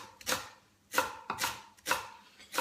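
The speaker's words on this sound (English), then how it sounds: "You will take your knife and you start mincing" A kitchen knife mincing leek on a cutting board in repeated crisp chops, five or so strokes in uneven rhythm, close and clear with no voices.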